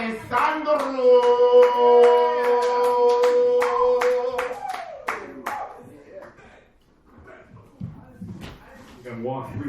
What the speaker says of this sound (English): Can I get a clap, clap, clap, clap for Pete, the hot beat, Alessandro.